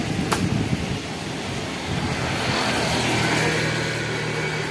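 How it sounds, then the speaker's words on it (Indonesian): Strong wind blows hard and steadily on a cloudy afternoon, a loud broadband roar buffeting the microphone throughout, with no speech. "Ini angin kencang."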